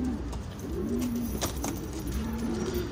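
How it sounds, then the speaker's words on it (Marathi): Pigeons from Rajgurunagar, newly bought for a loft in Dhankawadi, coo in low, repeated rolling calls close by, with faint clatter and rustling in the background. "राजगुरु नगर चे कबूतर है ये"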